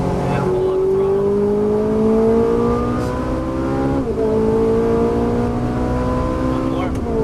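A Ferrari 458 Italia pulls out of a turn on track, its engine note climbing steadily in pitch through the gear as it accelerates, loud and close from inside the car, with a shift near the midpoint.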